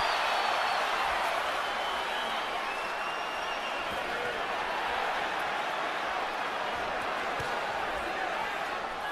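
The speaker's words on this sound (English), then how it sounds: "Crowd is warming up." An arena crowd at the Cotto vs Margarito boxing fight roars in a continuous broad wash of cheering, steady and fairly distant, with a commentator's voice talking over it.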